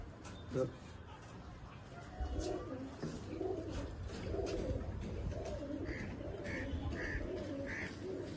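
Pigeons coo repeatedly in soft, rhythmic low calls, with a few higher chirps from other birds and a faint voice in the background.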